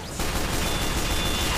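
Sustained, loud gunfire from floating eyeball machine guns at the Halloween event in Team Fortress 2, a dense continuous burst that kicks in after a brief quieter lead-in and holds steady to the end.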